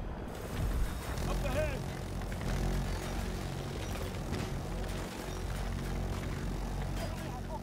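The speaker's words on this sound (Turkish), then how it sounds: "helikopter." A helicopter in Battlefield 2042 gives a continuous rotor and engine drone amid busy game noise, with players talking over it.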